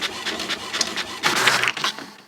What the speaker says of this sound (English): Shipping labels fresh off the printer.